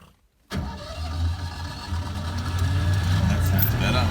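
A flooded Citroën 2CV engine cranks and catches after a brief silence, then settles into a rough, steady idle that grows slightly louder, heard close up outdoors on a hot summer day in the south of France.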